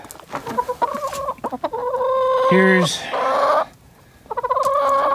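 Backyard chickens in a suburban homestead cluck and squawk close by in repeated rhythmic bursts with one louder rising call, while a person speaks briefly.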